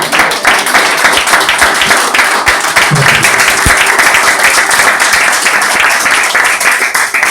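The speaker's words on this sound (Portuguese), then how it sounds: "as palmas que louvam e agradecem o nome de Deus" A church congregation claps loudly during a revival service, a thick, sustained wash of many hands applauding up close without a break.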